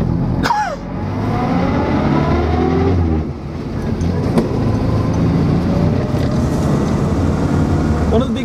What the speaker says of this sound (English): I'm warming the car up now.